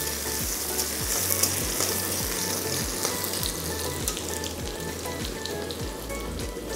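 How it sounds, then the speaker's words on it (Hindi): Chopped onions frying in a pan for vegetable masala Maggi, a steady dense sizzle with a regular low knocking rhythm throughout, close and even in level, with no speech. "प्याज डालेंगे, एक मिनट भुनेंगे प्याज को"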